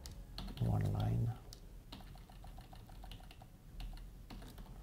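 Someone types code on a computer keyboard, with rapid, light, uneven clicks running throughout, close and moderately quiet, while someone talks over part of it.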